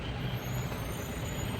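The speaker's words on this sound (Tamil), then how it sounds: "பாருங்கள் எவ்வளோ டிராஃபிக் பாருங்கள்." Dense highway traffic jam with trucks and buses, a low continuous engine rumble and hiss of idling heavy vehicles, steady and moderately distant with no talk.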